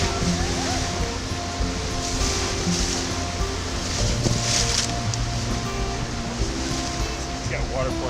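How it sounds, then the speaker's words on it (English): Surf surges and breaks continuously onto a shore, a loud, wide wash of water with gusty wind buffeting the microphone and faint voices underneath. "Waves keep coming."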